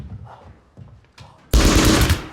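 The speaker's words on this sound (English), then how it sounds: "throwing a knife in front of Max, admits that he did it and receives a shot in the chest." A gunshot in a wartime film scene, a man shot in the chest: after quiet murmurs, a sudden loud, dense burst of gunfire erupts and sustains to the end.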